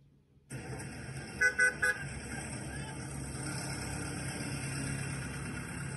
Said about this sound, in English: lots of high-pitched sounds as well of the cars honking